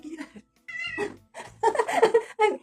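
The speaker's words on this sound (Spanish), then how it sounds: "Esta gata se llama Ba, es la consentida, de la consentida de la casa" A pet female cat meows a few short times indoors, close and clear, mixed in among a woman's nearby speech.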